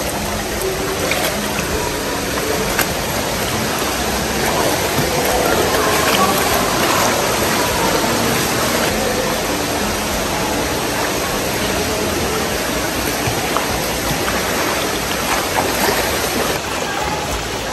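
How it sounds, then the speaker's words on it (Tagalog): A waterfall in Bali sends rushing water down in a loud, steady broadband roar that continues unbroken and close by throughout. "Buwis-buhay itong waterfall na to, pero sulit."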